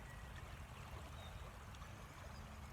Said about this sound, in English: not even the water on the rocks